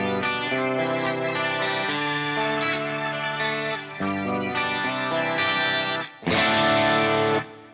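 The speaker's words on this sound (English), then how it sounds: "there's the organ sound now because I got the pedal pushed up" An electric guitar run through an Axe Fx processor, with an expression pedal pushed up, produces an organ-like tone that plays sustained chords with chorus and distortion. The chords shift steadily, and a louder swell comes near the end.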